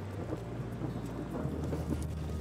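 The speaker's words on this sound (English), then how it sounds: "There's a thunderstorm coming." Low, rumbling roar of distant thunder blended with steady gusting wind, continuous and fairly faint throughout.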